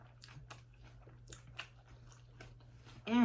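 Close, quiet bites and chewing on tomahawk steak: a series of soft, moist crunching chews spaced irregularly over a faint low hum, ending in a brief louder burst.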